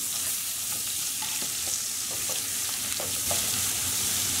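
Chapli kebab fries in a pan with a steady, dense sizzle throughout, broken by a few soft scraping clicks from a utensil; no voices.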